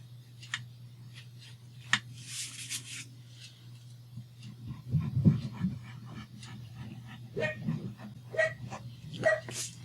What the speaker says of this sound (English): The neighbors are bringing their dogs in and out, which just means up and down the stairs. And they're really loud.